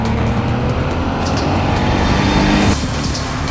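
A Ferrari engine roars steadily and loudly throughout, a sustained powerful note with a slight shift in tone near the end, with no talk over it.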